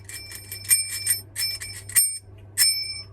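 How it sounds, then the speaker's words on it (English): Vintage all-metal bicycle bell rung in rapid bursts of bright trilling dings, then two single rings that hang and ring out, loud and close over a low electrical hum. "I've got this vintage bell."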